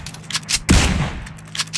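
PUBG video game gunfire: a few sharp rapid shots followed by a heavier burst, close and loud, with no talking.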